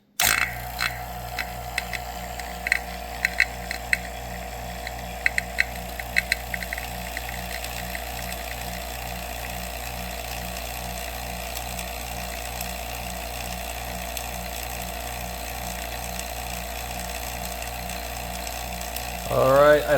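Robinair HVAC vacuum pump running steadily, a continuous mechanical drone with a fast, regular pulsing rattle throughout, close and constant with no talk over it.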